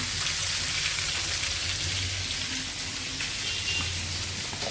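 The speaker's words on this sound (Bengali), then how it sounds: "এদিকে মাছ ভাজা হচ্ছে" Fish sizzling in hot oil in a frying pan makes a steady, dense crackle that carries on unbroken throughout, close up and without any talking.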